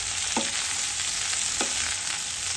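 Ridge gourd pieces fry in a pan with a steady, bright sizzle throughout, broken by a couple of faint stirring clinks.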